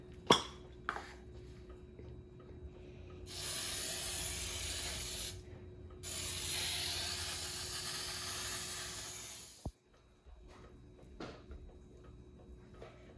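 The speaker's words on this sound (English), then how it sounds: "you're gonna get your dish and grease it" Cooking spray hisses onto a baking dish for a brownie pizza in two sustained bursts of several seconds each, close and fairly loud, with quiet handling clicks before and after.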